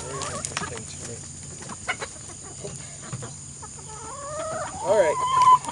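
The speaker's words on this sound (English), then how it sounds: "Just a bunch of crazy chickens." Several chickens cluck and squawk nearby after rain, scattered low clucks building to louder, excited calls near the end, with some faint background talk.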